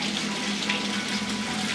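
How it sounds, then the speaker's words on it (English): An indoor water feature at the House on the Rock in Spring Green, Wisconsin, runs with a steady, close splashing trickle and hiss, continuous and alone. "The water feature."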